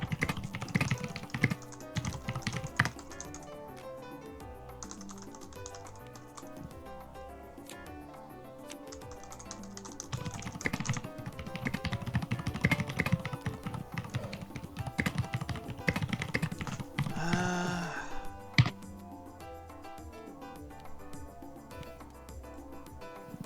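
Computer keyboard typing goes on in irregular bursts of close, crisp key clicks and taps for over twenty seconds, with brief pauses and no talking.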